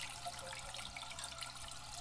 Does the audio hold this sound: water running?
yes